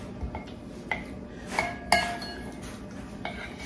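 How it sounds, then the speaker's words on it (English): A utensil stirs chocolate into hot melted butter in a dish, giving several sharp clinks and scrapes against the bowl spaced irregularly over a few seconds, close and fairly quiet. "we're gonna stir this chocolate into this hot butter"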